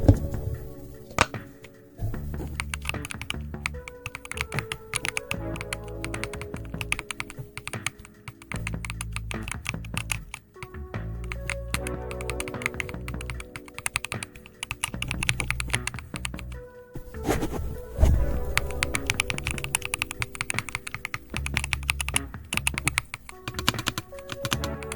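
Steady, fast typing on a thocky computer keyboard, close up, with deep clacky keystrokes in continuous bursts and brief pauses.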